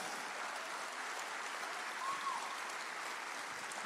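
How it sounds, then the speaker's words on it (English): A church audience claps hands together, a dense, even patter of applause held steadily throughout, soft and somewhat distant. "If you're getting it, clap your hands today."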